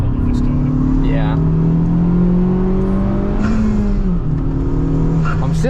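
A 400 HP Honda Civic Type R with VTEC and a dual mass flywheel drones loudly at high revs around the Nürburgring, the engine note holding steady before dipping briefly on a shift.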